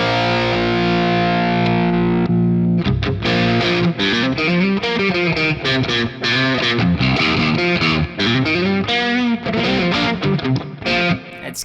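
An electric guitar plays through the ML Sound Lab Amped: Dual amp simulator, a heavily distorted, high-gain Rectifier-style tone: a sustained chord followed by fast, punchy riffs, loud and unaccompanied.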